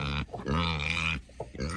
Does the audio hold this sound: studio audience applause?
no